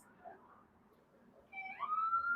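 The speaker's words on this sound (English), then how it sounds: "Oh, it's a cop. I thought it was an ambulance." A police car siren rises in the distance, a faint wailing tone emerging after a quiet stretch and growing louder and steadier toward the end.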